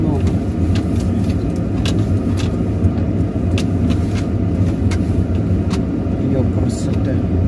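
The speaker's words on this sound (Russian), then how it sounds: "Как машин тут много." Traffic of many cars passing close by, a loud continuous engine rumble with tire hiss and brief passing whooshes, under faint talk.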